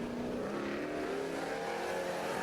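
Modified race cars at a speedway time trial start roar away together, a dense, loud, sustained engine howl with rising pitch as they accelerate, no voices.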